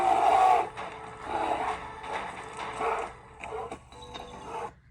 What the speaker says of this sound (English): that was a bear making noise and kind of growling and walking along the riverbank